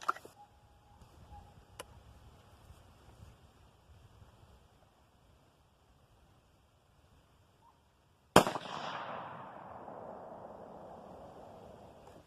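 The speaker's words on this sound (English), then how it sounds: "Our first round we're going to shoot are the H414s." A single sharp rifle shot from a 22-250 firing a handloaded H414 round on an evening range, loud and close, with a long rumbling decay after a quiet outdoor lead-in.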